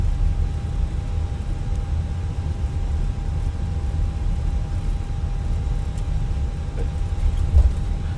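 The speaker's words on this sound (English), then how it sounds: "It's the takeoff." An airliner takes off from Oslo. The cabin holds a steady, loud broadband roar with a low rumble and a faint constant whine, and no one speaks.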